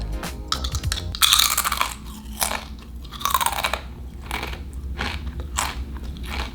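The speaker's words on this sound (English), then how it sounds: "All that crunching in your speakers." Loud close crunching and chewing of dinner food, with irregular bites and crisp crackles in bursts over several seconds and no talking.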